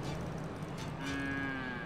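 A cow moos in The Coin Game video game, a long, loud bellowing call with a slight rise in pitch, close and clear with no talk over it.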